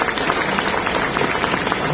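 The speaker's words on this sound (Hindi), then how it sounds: "एक बार जोरदार ताली हो जाए।" A kavi sammelan audience in Bhiwani bursts into sustained, dense applause, many hands clapping together loudly and steadily, with faint crowd murmur underneath.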